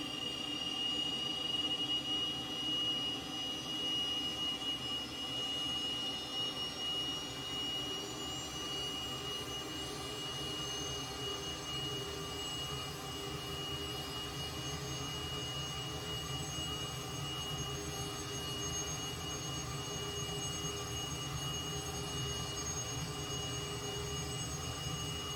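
Twin jet engines of a Cessna T-37 Tweet in an FS2020 flight simulator spool up for takeoff, a steady loud roar with a rising high whine held for about 25 seconds, with no talking.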